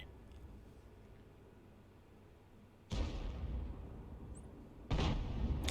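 Artillery rounds fired from an M53/M55 self-propelled gun in World of Tanks: two loud, sharp booms about two seconds apart, each a broad blast that lingers with rumbling decay over a low background hum.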